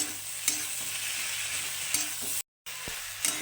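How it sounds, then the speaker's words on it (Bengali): Chopped coriander is stirred into puti fish frying in a pan, a steady close sizzle broken by a few light scraping stirs and one brief gap of silence. "এখন এর মধ্যে আমি দিয়ে দিচ্ছি ধনে পাতা কুচি তো ধনে পাতাটা খুব ভালো করে সঙ্গে মিশিয়ে দেবো"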